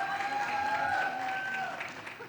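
A crowd at an entertainment industry awards gathering in India claps in applause, a moderate wash that fades toward the end, with a sustained tonal hum and a faint voice underneath.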